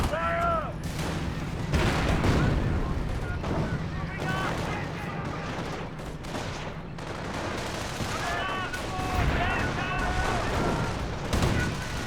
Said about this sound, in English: Grenade's been thrown there.